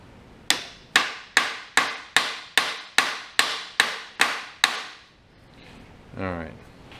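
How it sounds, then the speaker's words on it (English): A hammer strikes a Cub Cadet dozer's steering wheel ten times in an even, ringing rhythm, loud and close, then stops, followed by a short voice. "pulling up on the steering wheel, give it a little whack"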